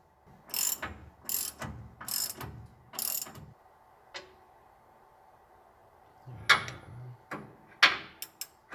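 A socket wrench ratchets on LMC U-bolts of a 1967 Chevrolet C10 pickup being lowered, quick clicking strokes in close, sharp bursts with pauses between them.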